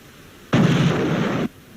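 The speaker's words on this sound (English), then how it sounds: "Time for another explosion sound." A single stock explosion sound effect sounds a loud, flat rumbling burst that holds for about a second and then cuts off abruptly, with no voices.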